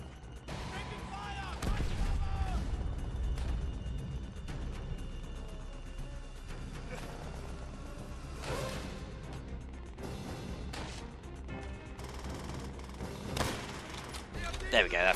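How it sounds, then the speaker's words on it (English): Gunfire and explosions from the World War II shooter Call of Duty: World at War, with a loud blast near the start followed by scattered shots and crashes, some near and some distant, over continuous game ambience. "Oh god, there's a grenade."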